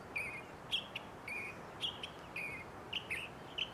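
A songbird in California chaparral repeats short bright chirping phrases about every half second, clear and fairly close over a soft steady hiss of background noise.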